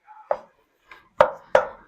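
A small spoon scrapes and knocks against a cast iron pot while breaking up chili meat, a few sharp clanks in quick succession with a softer tap between them.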